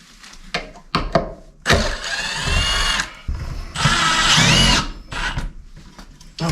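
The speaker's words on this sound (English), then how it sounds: "so I gotta back them out." A power drill backs out screws that were set too low during work on a wall opening for a triple-wall chimney pipe, running in several loud whirring bursts of varying length separated by short pauses.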